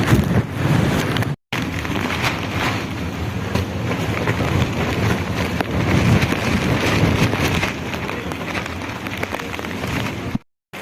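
Strong wind on Girnar mountain near the Ambaji temple roars and buffets the microphone continuously, loud and gusty, with two brief dropouts.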